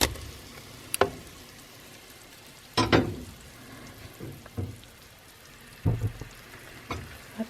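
Meat and onions frying in oil in a pan for eggplant gheymeh stew, with soft scattered sizzling and a few sharper crackles and stirring clatters spread across the stretch, no talk.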